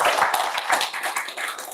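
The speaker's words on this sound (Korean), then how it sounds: "맞는 것 같은 박수도 한번 쳐주고 보세요" A lecture audience breaks into a brief burst of close, lively hand clapping, many palms slapping in quick overlapping beats.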